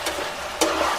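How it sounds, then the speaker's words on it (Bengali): Ginger, garlic and onion frying together produce a brief close sizzle with two sharper bursts of crackle, each short and loud. "আদা রসুন পেঁয়াজ সব একসাথে ভেজে"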